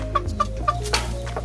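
A Bangkok crossbreed rooster clucking close by, several short sharp clucks in quick succession over a low background hum.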